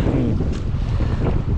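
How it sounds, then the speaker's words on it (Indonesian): Strong wind buffets the microphone at sea during kayak fishing off Melaka, a steady loud roar of gusting air and rushing water with no voices. "Korang boleh dengar dia punya angin berdesuk."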